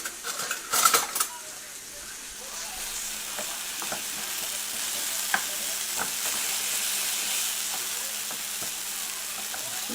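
Shrimp paste for kare kare frying in a pan, a steady, even sizzle that runs the whole time. It opens with a brief clatter of utensils, and faint scattered clicks fall over the hiss.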